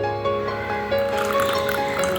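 Cold water pours into a green mango squash drink in a short, steady trickling stream lasting a couple of seconds.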